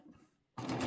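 A Baby Lock serger stitches off the last corner of a piece of fabric, a brief quiet whir that stops, then a fast, buzzing run of close mechanical stitching.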